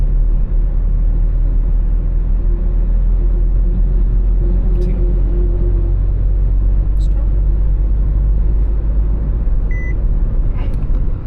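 A Renault Duster's engine drones loudly and steadily inside the cabin at full throttle, accelerating from 52 to 80, a continuous low rumble with a few faint beeps on top.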